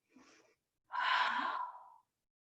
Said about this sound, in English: Just take a deep breath here.